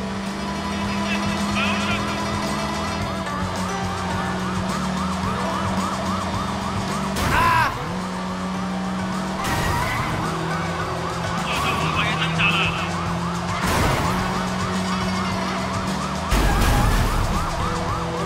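Police car sirens wail continuously in Sleeping Dogs Definitive Edition as the cops drive, loud and close. The cycling siren tones are punctuated by several sharp bangs or crashes spread across the stretch.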